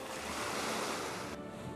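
Arabian Sea surf at Lakshadweep, a continuous broad wash of breaking waves mixed with wind, steady and fairly loud with no voices.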